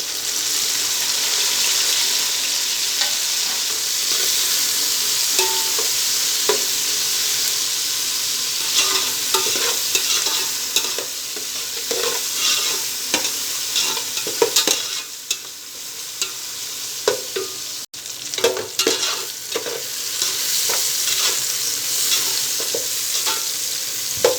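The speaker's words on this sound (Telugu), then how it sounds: "ఉల్లిపాయ ముక్కలు కొద్దిగా మగ్గిన తర్వాత టమాటో ముక్కలు వేసుకోవాలి." Tomato pieces fry with softened onions in a pan for gongura chicken biryani, a dense close sizzle broken by repeated scraping stirs and clinks throughout, with no talking.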